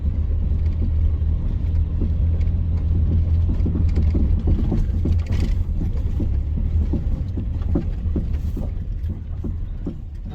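A car drives slowly down a backroad and turns around, its engine a steady low rumble with tires crunching and small bumps ticking over the ground throughout.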